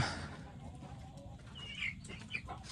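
Chickens cluck faintly in a rural yard, including Australorp hens, with soft scattered calls and chirps over low background noise and a brief voice.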